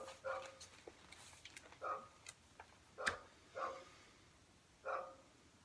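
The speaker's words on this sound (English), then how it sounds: "it's been 3 hours this dog's been barking" A neighbouring dog barks next door in about five separate, irregular bursts, somewhat distant and moderately faint against a quiet background.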